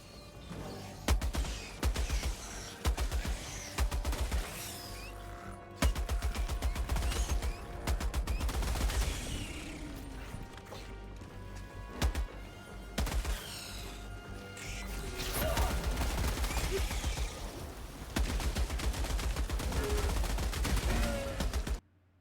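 Heavy machine gun firing in Helldivers 2, long sustained bursts of rapid, loud shots with brief pauses between volleys, mixed with impacts, explosions and mechanical clatter.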